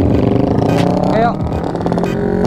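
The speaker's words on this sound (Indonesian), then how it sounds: "Oke, kita gaspol teman-teman." Motorcycles, including Yamaha R15s and a Honda Scoopy, on a Sunday group ride rev and accelerate hard, a continuous loud engine roar with a rising whine near the middle, alongside talk and wind.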